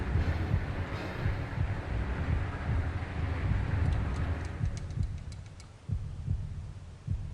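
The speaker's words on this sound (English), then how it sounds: "Heartbeat." A heartbeat effect from the video game Jade Cocoon, a low, muffled thumping pulse repeating steadily beneath a soft, droning hum, with no talking over it.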